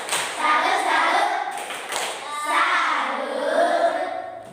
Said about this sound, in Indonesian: kita tepuk salut untuk Tessa